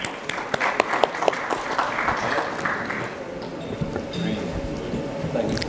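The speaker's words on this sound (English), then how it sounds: "And a round of applause, everyone." An audience at an international galvanizing conference in India applauds steadily for several seconds, individual claps standing out near the start before the sound settles into an even patter with faint talk beneath.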